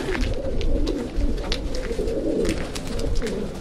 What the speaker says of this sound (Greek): Πολύ ωραία περιστέρια.